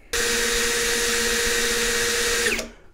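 An Ingco 96Nm cordless impact drill runs in first gear, a steady high-pitched motor whine that starts abruptly, holds for about two and a half seconds, then winds down; no talking.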